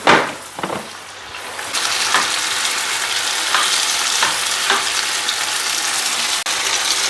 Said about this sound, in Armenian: Հավի կրծքամիսը տապակվեց